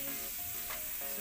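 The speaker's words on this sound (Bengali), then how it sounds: "এবার আমি আবার মশলাটাকে ভাজতে থাকবো যতক্ষণ না মশলাটা ভালোভাবে ভাজা হয়ে যায়।" Masala for Bengali egg curry sizzles steadily as it fries in a pan, with a brief stir partway through; the sound is fairly faint and continuous, with no talking.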